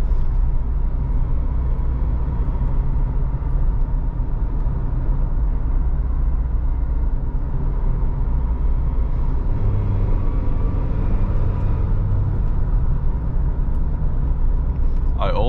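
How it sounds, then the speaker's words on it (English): Deep, rumbling exhaust of a 2022 Suzuki Jimny SUV drones continuously at close range, swelling slightly midway, with a brief voice near the end. "so you can hear this great exhaust"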